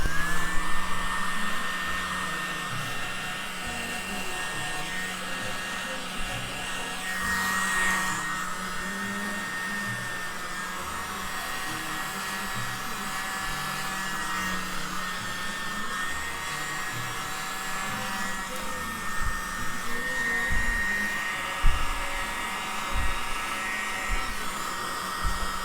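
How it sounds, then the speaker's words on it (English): A small handheld mini blower whirs continuously at close range, a steady airy hum like a hair dryer with slight wavering pitch for the whole stretch. "maybe a little touch with the little blower, mini blower."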